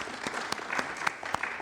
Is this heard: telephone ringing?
no